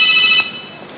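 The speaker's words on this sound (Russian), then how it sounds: "Вдруг кто-нибудь важный звонит." A mobile phone rings with a bright electronic tone for a moment, then cuts off, leaving quiet room noise.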